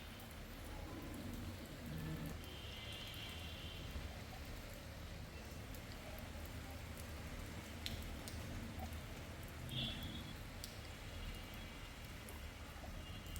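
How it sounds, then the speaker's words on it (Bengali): Onions and ginger garlic paste fry in a pan, making a soft, steady sizzle that crackles evenly throughout, faint and without pauses. "আদা রসুন বাটা দিয়ে আরো 1 মিনিট আমি ভেজে নিব"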